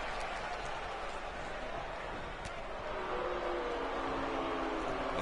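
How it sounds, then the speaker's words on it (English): A wrestling arena crowd grumbles and murmurs in a broad, steady wash of noise, with faint scattered claps. "you can hear the crowd not happy with the result already"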